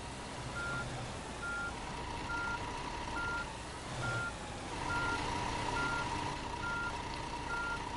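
A tour bus reverses in Tourist Bus Simulator, with a steady backup alarm beeping at an even pace over a constant low engine drone. No one speaks.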